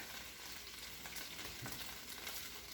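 Onion rings sautéing in meat drippings on a crock pot stand, giving a faint, steady frying hiss with a few soft stirring touches partway through and nobody talking.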